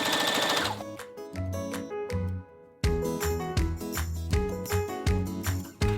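A sewing machine stitches a fabric gift bag in close, rapid bursts of rhythmic needle clatter, pausing briefly between runs before resuming at a steady pace.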